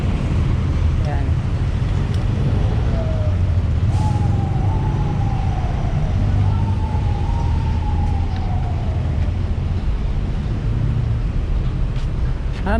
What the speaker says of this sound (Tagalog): Ayun, daming daming mga fire trucks.